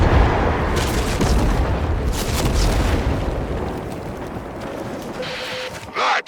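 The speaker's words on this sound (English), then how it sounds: "That was the old Macvoss cannon." A heavy cannon booms in the sci-fi game Warframe, with a loud, rumbling blast and long roaring decay that fades into quieter noise before a brief final burst at the end.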